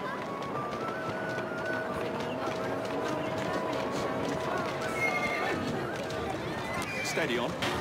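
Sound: horse neighing and hooves in Assassin's Creed Syndicate video game

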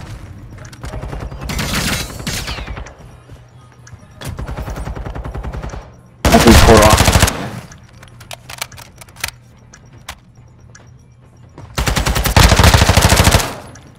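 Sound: gunfire in a shooter video game

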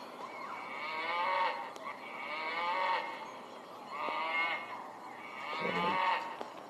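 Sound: cow mooing in an iPad video game

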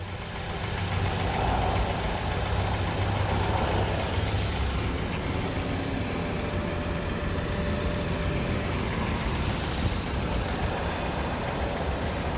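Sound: 2004 Honda CR-V VTEC V6 engine idling after start-up

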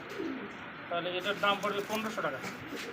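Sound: pigeons cooing

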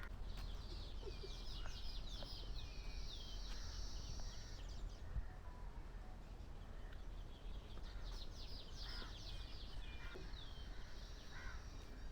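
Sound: sparrows chirping

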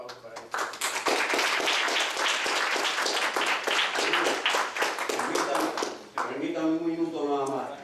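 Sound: audience applause for the panel

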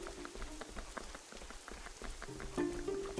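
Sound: rain falling outside, from the video game Fall of Porcupine

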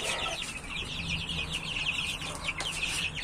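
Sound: chicken clucking

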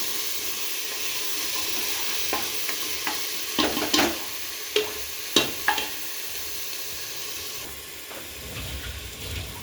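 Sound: onions and green chillies frying in a pan

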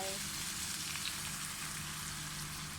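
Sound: water poured into a pan of frying sea bass

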